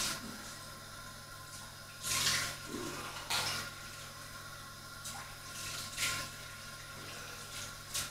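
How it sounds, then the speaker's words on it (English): Cold water from a bathroom tap splashes and runs during a rinse after a wet shave, with a few louder bursts of splashing over a steady faint trickle and low background hum. "Cold water rinse."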